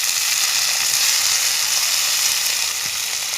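Home-grown hill tomatoes hit hot oil with onions and fried red chilli, giving a loud, close, continuous sizzling hiss that stays steady and even throughout with no talk over it.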